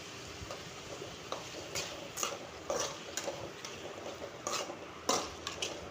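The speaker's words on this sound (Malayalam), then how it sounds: "തക്കാളി സവാളയും കൂടി മിക്സ് ആക്കണം." Tomato and onion being stirred together in a pan for tomato rice, soft scraping and clinks of a spoon against metal at irregular intervals, faint and close with no talking.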